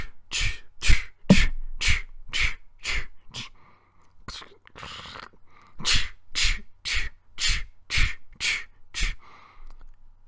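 A voice imitates dealing a hand of poker with a steady run of sharp breathy snaps like cards hitting a table, a short shuffling pause in the middle, then another even series of snaps.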